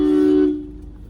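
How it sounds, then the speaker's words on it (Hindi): A single short car horn blast sounds close and loud in a narrow lane, then cuts off, leaving quieter street background. "अब मैंने यहाँ पे हॉर्न दिया"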